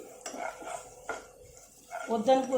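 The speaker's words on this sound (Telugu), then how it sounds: "మిరపకాయ కూడా వేగింది, జీలకర్ర వేగింది" Cumin seeds and green chillies frying in oil for buttermilk curry, a brief sizzle under clinking utensil scrapes, with a louder clatter of stirring near the end.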